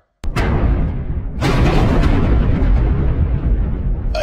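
Artillery gun firing as a radio drama sound effect in a War of the Worlds broadcast: a loud sharp blast, then a second heavier boom at about 1.4 seconds that rolls on in a sustained rumbling roar.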